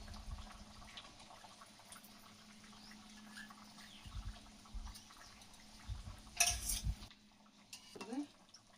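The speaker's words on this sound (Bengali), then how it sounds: "তরকারি ফুটে উঠেছে, এবারে পোস্ত আর শস্য দিয়ে দিচ্ছি" Poppy seed paste and seeds going into a simmering Bengali village-style fish curry, with faint scraping, low bubbling and a brief clatter of a spoon against the pan near the end, quiet overall, with no talk.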